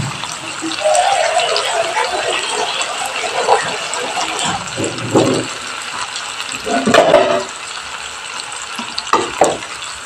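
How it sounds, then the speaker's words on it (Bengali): Water pours into a pan of sizzling spiced prawn and pumpkin curry, a gushing splash over loud frying, followed by stirring scrapes and bubbling. "জলটা আমি অ্যাড করে দিচ্ছি"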